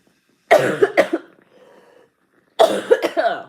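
Two separate bursts of harsh coughing, each a rapid cluster of hacking coughs, close by, with a short quiet gap between them.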